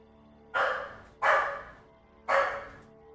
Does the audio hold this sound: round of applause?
no